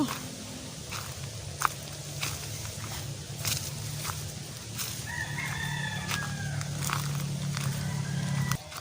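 Rooster crowing at moderate distance while hens cluck intermittently, with scratchy rustling and faint footsteps in an outdoor yard.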